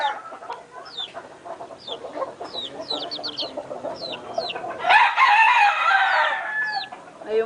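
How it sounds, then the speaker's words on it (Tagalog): Chicks peep in quick high chirps while hens cluck and a rooster calls on a Filipino poultry farm, with a denser burst of overlapping fowl noise toward the end. "Ayun, mga sisiw. Mga sisiw pala eh."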